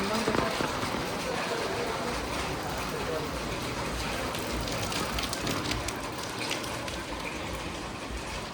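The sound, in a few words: heavy rain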